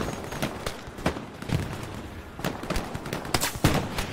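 Gunfire rattles through a battle in the World War II shooter Hell Let Loose, with repeated sharp rifle and machine-gun shots, some close and some distant, in irregular bursts.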